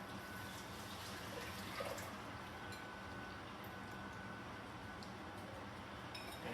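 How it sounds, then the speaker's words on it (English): Milk poured into a pan on a stovetop set a little below medium for baked macaroni and cheese: a steady, soft liquid rush with faint drips and clinks, running alone throughout. "I'm going to add my milk."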